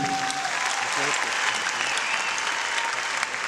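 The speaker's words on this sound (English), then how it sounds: "How about a round of applause for the people who campaign against the Civil War?" An audience applauds steadily in a concert hall in Colombia, a sustained wash of clapping with a voice speaking over it.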